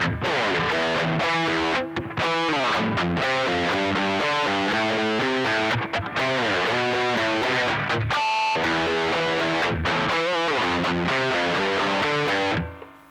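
Distorted electric guitar plays the riff from Muse's Time Is Running Out, a fast, driving run of notes with harmonics ringing in between, loud and steady with no talking.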